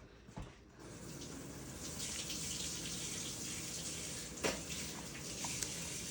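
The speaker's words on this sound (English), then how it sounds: "she's washing her hands" Hands washed under a running kitchen tap, a steady close gush of water filling a sink with a few brief splashes and knocks.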